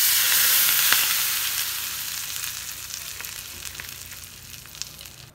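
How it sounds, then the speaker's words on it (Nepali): Turmeric, cumin and coriander powders sizzle in hot mustard oil for a Nepali koiralo (bauhinia bud) achar, a steady bright frying hiss that is loudest at first and slowly fades, with a few small pops and no talk. "मैले यो अचार झान्नको लागि तोरीको तेल तताएको छु"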